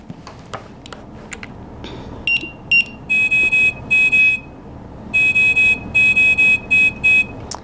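A ventilator being switched on with a test lung attached sets off a series of electronic alarm beeps, clustered in steady pulsed groups that stop and restart over a quiet room hum, after a few faint clicks.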